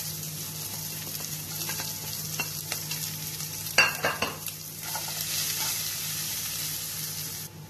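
Onion sizzling and being stirred in hot oil with green chili in a pan for an aloo capsicum dish, a steady close fry with scraping stirs and a brief louder clatter midway.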